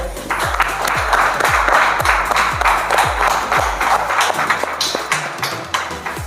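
Audience at a children's reality show applauds a young contestant, bursts of clapping mixed with rhythmic thumping beats, steady and loud throughout.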